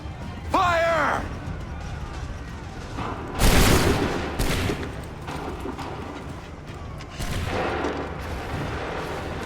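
A gunfire volley in Assassin's Creed 3 gives a loud burst of many overlapping shots, then a second, weaker volley, with brief shouting before it and hoofbeat-like rumbling in the background.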